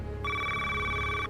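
A telephone rings once in a short electronic burst after a brief quiet lead-in, clear and fairly close, with no talking.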